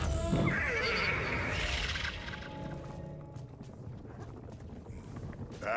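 A horse whinnies in the video game Destiny 2, a loud, long descending neigh at the start that fades into a quieter game ambience.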